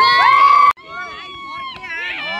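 Spectators at a secondary school high jump competition in Arkhabang, Gulmi, hoot and cheer with loud whooping voices; the shouting cuts off abruptly, then quieter hoots and yells rise again.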